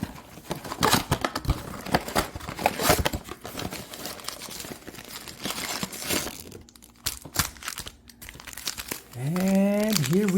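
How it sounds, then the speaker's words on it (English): Crinkling and tearing of foil wrappers as 2023 Panini Prizm baseball card packs from a mega box are ripped open, busy crackles up close with talk partway through. "doesn't mean we can't rip open some baseball cards"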